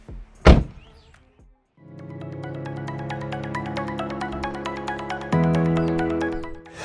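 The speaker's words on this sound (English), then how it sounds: "They feel so heavy and solid, and they close with a very German," A 2012 VW Polo 1.6 TDI Comfortline door shuts once with a single solid, heavy thud, followed by a steady electronic chime tone that continues and shifts pitch partway through.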